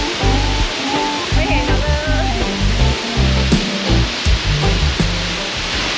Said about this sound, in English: this waterfall right here is totally free